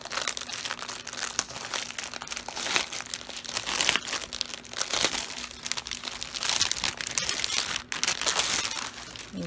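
Crinkly packaging gets unwrapped close by, a busy run of crackling and rustling that carries on for several seconds without speech.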